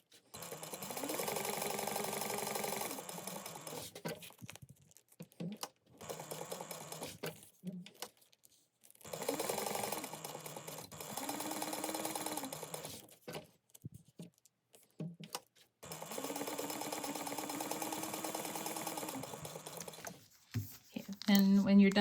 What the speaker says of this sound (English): Sew across there, rotate, and then we're going to sew down both sides like that